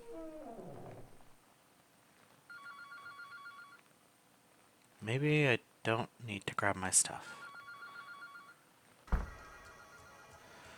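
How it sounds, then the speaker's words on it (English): A telephone rings in the horror game Anthology of the Killer, two bursts of electronic bell trills at moderate level, separated by someone talking and loud in-game sounds. "the phone is ringing again"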